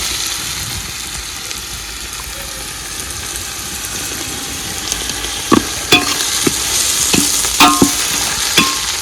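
Onion, cabbage and chili with ginger garlic paste fry in a pan for Manchurian, giving a constant loud sizzling hiss, joined later by several sharp metallic clinks of a stirring utensil.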